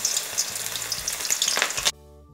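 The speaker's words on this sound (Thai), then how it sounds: "พอกระทะร้อนแล้วก็นำลงทอดได้เลยครับ" Chicken cartilage crackles and sizzles loudly as it deep-fries in hot oil, then the sound cuts off abruptly.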